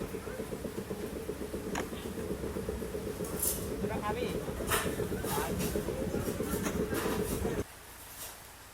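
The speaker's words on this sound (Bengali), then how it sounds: "তো আমরা অবশেষে ট্রেনে আবার উঠে গেলাম" A passenger train rumbles along the tracks toward Udaipur, its steady low roar and carriage rattle filling the interior, with occasional clacks and a voice talking over it before the noise drops abruptly near the end.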